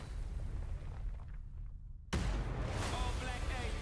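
A rocket explodes in Super Animal Royale with one sudden loud blast, followed by a lingering rumble. Excited voices talk over the gameplay.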